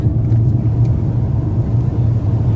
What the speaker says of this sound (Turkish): Ha biz arabanın içindeyiz.